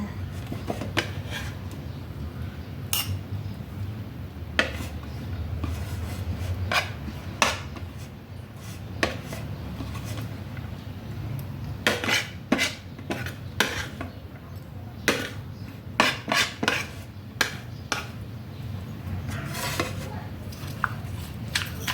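Strands of green papaya are mixed for a som tam salad, giving irregular sharp clinks and knocks of a utensil against a bowl or mortar, scattered across a quiet kitchen background.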